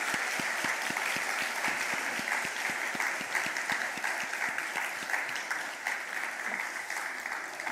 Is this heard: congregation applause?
yes